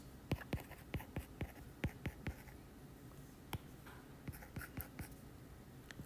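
Math being written on a board during a lecture: a string of sharp, quiet taps and short scratchy strokes in irregular bursts, faint and close, with no voice over them.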